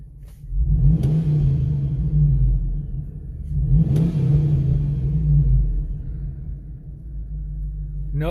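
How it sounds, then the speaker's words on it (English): A 2004 Hummer H2 engine revs loudly and close, with a deep steady idle rumble rising into two distinct throttle blips, each swelling and easing back down. "Listen to the engine."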